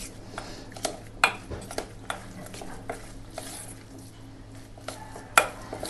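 Soaked sago pearls being stirred together with buttermilk in a deep pot, giving soft wet scraping and occasional light clinks of a spoon against the metal, close and quiet, with no talk.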